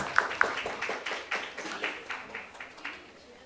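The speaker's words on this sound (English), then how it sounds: "Can we all give her a huge round of applause" An audience claps at a women's health femtech event, a scattered round of applause with a few sharp claps standing out before it gradually fades over a few seconds.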